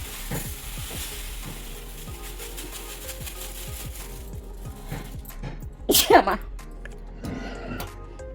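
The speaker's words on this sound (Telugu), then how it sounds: "ఇక్కడ కొన్ని ఆవాలు ఉన్నాయి, అవి కూడా వేయించేస్తాను." Mustard seeds being fried in a pan while making a mango pickle, with rapid crackling pops under a speaking voice, then a louder sizzling burst.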